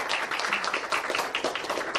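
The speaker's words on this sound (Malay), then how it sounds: "Jadi juga tepukan yang gemuruh untuk Elkan" Thunderous audience applause at a Malaysian MLM company event for Elkan, dense sustained clapping from a large crowd, loud and continuous throughout.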